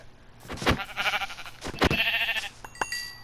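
Sheep in Minecraft bleat twice in quick succession, close and clear, with a faint game chime near the end.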